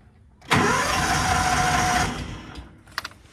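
A Kawasaki Mule 550 utility vehicle, a free barn find, cranks and catches, its engine running loud and steady for about a second and a half before dying away, followed by a couple of faint clicks.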